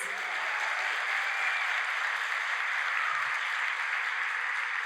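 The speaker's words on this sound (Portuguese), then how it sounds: "eu quero que vocês recebam essa equipe com uma salva de palmas" A steady, distant wash of applause from a church youth congregation welcoming a team, dense and even with no individual claps standing out, fairly faint throughout.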